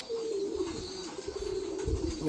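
Fancy pigeons at a pigeon farm coo in a low, steady, continuous murmur, close by, with a faint hiss in the background.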